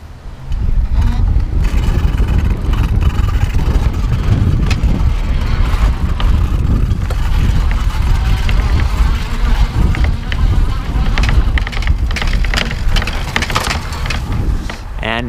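Rear fender on a Juiced RipCurrent S e-bike, which lacks extra rear fender support, rattling and clattering over a continuous rush of road and wind noise while riding, loud and steady throughout.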